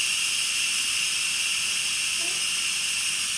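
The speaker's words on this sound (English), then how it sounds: "That's the Instant Pot. That's the steam." An Instant Pot vents steam on quick release with a loud, steady, unbroken hiss that fills the whole stretch close to the listener.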